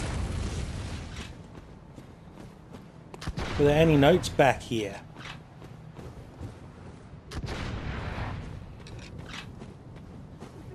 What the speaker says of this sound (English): There's a dude up on the cliff shooting at me.